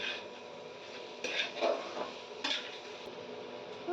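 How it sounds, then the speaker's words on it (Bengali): Metal utensil scraping and clinking against a cooking pan as softened bottle gourd is stirred, a few close rattling strokes over a steady low kitchen hiss, with no talking. "কিছুক্ষণ নাড়িয়ে নেব"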